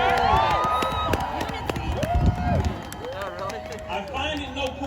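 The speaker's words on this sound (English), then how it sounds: "Y'all can clap for that." A crowd at an outdoor rally in Washington DC claps and cheers loosely, scattered shouts and claps in the distance under someone speaking loudly over a microphone.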